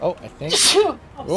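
A sneeze bursts out sharply in the middle of casual talk over a Total War: Warhammer II game, a single loud explosive hiss framed by spoken words before and after.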